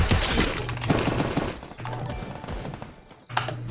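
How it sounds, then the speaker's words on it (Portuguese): Rapid gunfire in a Free Fire-style battle royale match, dense bursts of automatic shots filling the clip with short pauses between volleys, loud and close. "Deu um tiro."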